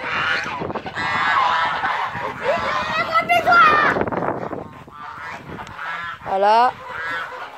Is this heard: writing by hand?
no